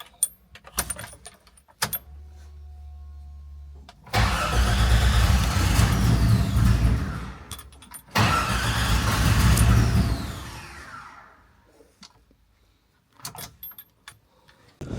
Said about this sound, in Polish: Zobaczcie, co się dzieje, jak odpala.